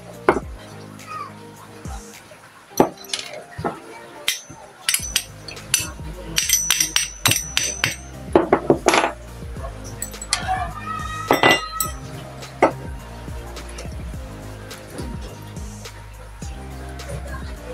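A nut is tightened by hand on a homemade mini amplifier built with an 8-inch speaker, giving scattered close metallic clinks, taps and rattles in irregular bursts with quiet gaps between them.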